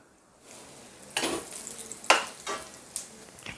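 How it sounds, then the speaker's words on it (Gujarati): Corn flakes frying in hot oil for a homemade mixed namkeen snack, with bursts of crackling sizzle and stirring that rise and fall in several waves, fairly close and with no talk. "હવે આપણે મકાઈના ફૂલને પણ તરી લઈશું"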